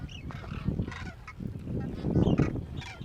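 A flock of migratory geese honking in the open during a trip in Rajasthan, with overlapping nasal calls rising and falling in quick succession, fairly close and busy, with no talk over them.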